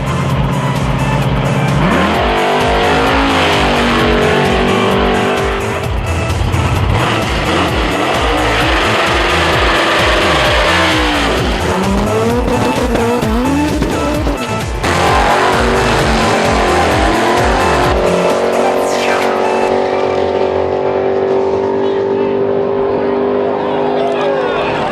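Drag race cars at the 2011 Southeast Face-Off in North Carolina, loud engines roaring and revving hard with tire squeal, sustained and overwhelming throughout, with voices partly mixed in.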